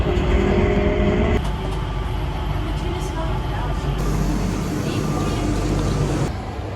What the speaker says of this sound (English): So we just have to get onto the SkyTrain and go to Terminal 3.